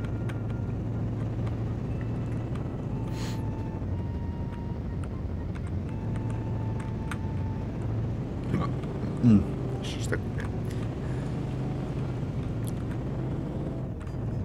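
Car engine from The Simpsons Hit & Run video game, a big vehicle driving with a steady low rumble throughout, with a brief thump near the middle and someone talking over it.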